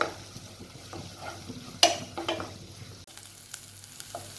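Green chilies and curry leaves sizzle in hot oil while a spoon stirs and scrapes the pan, with a sharp metallic clatter early on and a softer crackle afterward; no talking.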